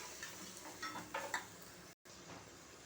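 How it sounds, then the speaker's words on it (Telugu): Spices frying in a pan for goat head curry, a soft, fairly faint sizzle with a few light clinks of a utensil and a brief dropout near the middle. "దీనిలో కూడా కొంచెం వేయించుకోవాలండి"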